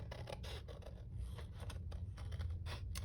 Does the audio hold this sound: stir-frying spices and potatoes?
no